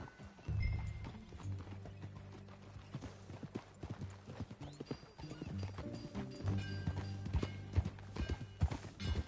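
A horse gallops in Red Dead Redemption 2, its hooves clip-clopping in a steady rhythm with occasional snorts, fairly close, alongside a low game soundtrack.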